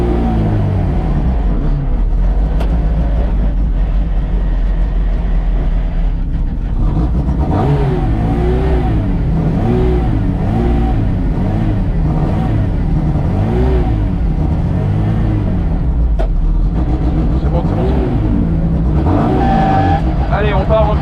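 Classic Mini Cooper S 1300 Mk1 setting off on the Mas du Clos circuit, its engine revving and pulling through gears with rising and falling pitch, close and loud throughout, with occasional tyre noise and some talk over it.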